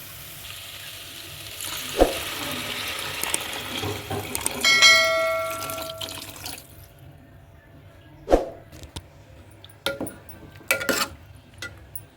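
Water poured into a potato and tomato curry sets off a loud sizzle and hiss that fades away, with metallic clinks and taps of a spoon on the pan coming afterward.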